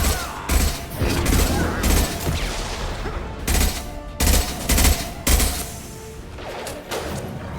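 Repeated battle rifle bursts from Mass Effect 2, loud and close, firing in clusters of shots with brief pauses between volleys, punctuated by heavier booming impacts.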